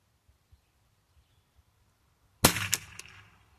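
A single sharp gunshot from an Anschutz 64 rifle cracks loudly after a quiet stretch, followed by a short decaying echo and a few fainter clatters as it fades.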